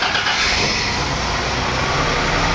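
A Chevy 4.3 V6 fitted in a Series Land Rover runs steadily and loud after starting, a constant broadband engine roar close to the listener with no pauses throughout.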